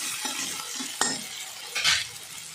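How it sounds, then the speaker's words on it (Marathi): Onion and tomato being stir-fried in a pan for a traditional mixed vegetable dish, a steady close sizzle under scraping spatula strokes, with a sharp clink near the middle. "चांगलं परतून घ्यायचं आहे बघा, कांदा टमाटर चांगलं मऊ झालं पाहिजे।"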